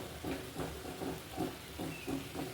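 Water poured into a pan of vegetarian elephant foot yam curry with ginger, cumin and tomato, giving a soft hiss that swells and fades in regular pulses, fairly quiet, with no voices.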